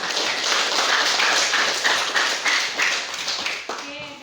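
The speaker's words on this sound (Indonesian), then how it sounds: "Tepuk tangan dulu." Students in a classroom clap their hands together in a steady, dense burst that holds for about four seconds before tapering off, with a few voices mixed in.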